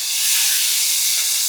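Two ripe country tomatoes go into hot oil already holding dried red chillies, curry leaves and asafoetida for rasam, letting out a loud, steady, hissing sizzle throughout.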